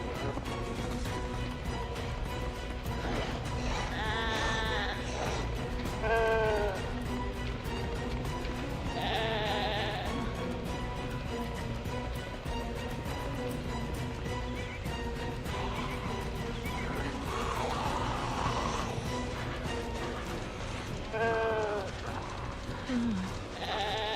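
Sheep in a video game bleat repeatedly over a steady, loud mechanical hum, giving several distinct wavering calls spread across the stretch, some near and some fainter, while players talk intermittently.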